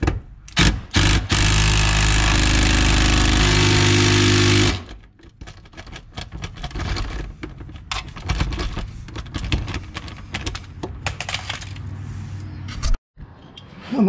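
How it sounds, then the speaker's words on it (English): Loud mechanical buzzing and ratcheting from tools working on 12 mm bolts on a Honda Civic engine, a steady heavy burst at first, then quieter irregular clicks and clanks of loosening with brief pauses. "what we're gonna do is release these two bolts that are right here"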